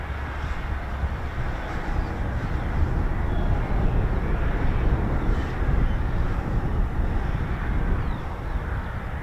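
F-35B jet moving at an RAF airfield, heard as a steady, broad low roar with wind-like rumble throughout, moderately loud and continuous with no talk.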